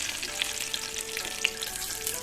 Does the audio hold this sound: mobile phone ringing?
no